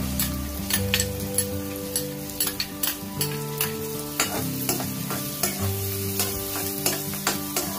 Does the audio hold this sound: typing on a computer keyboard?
no